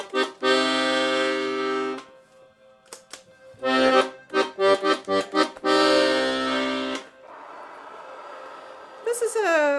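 Bass side of a Cream Bell Bellette LM 41 accordion with two toggle switches, with long sustained reedy bass chords alternating with quick staccato stabs, loud and close, ending with a short softer passage.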